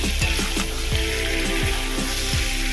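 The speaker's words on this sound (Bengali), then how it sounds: "মশলাটা কষানো হয়ে গেছে" Masala sautéing in a pan for doi potol, pointed gourd in yogurt gravy: a steady, close sizzle punctuated by rhythmic spatula strokes roughly every half second, with no talking.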